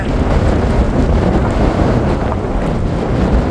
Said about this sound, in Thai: คลื่นลมทะเล